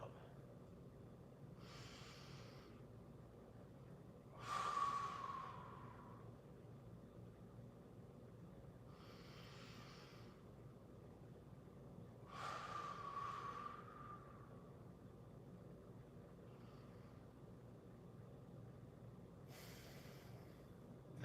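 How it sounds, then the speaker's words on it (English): Slow, deep breaths drawn in through the nose and let out through the mouth during a knee-friendly strength workout, a few soft, airy exhales spaced several seconds apart, faint and close with no talking. "we're gonna breathe in through our nose and then out through our mouth"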